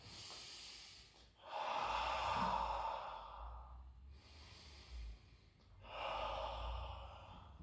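Two strong breathy exhales during a pelvic-lift exercise, each a long airy rush separated by a quiet pause, close to the microphone with a soft catch of breath between them.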